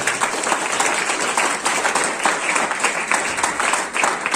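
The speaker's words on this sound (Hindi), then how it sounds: "इसके लिए एक बार फिर से तालियां।" Audience applause at an International Day of Yoga countdown event, a loud, fairly even patter of many hands clapping throughout, with no speech over it.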